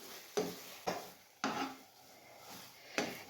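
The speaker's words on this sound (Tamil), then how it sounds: "பால் சேர்த்து நல்லா கலந்து விட்டுருங்க. பால் இந்த பொருட்களோடு நல்லா கலந்து வரட்டும்." A spoon stirs a thick milk mixture for a banana snack in a pan, giving four or five distinct scraping strokes that land at a steady rhythm, close and moderately loud.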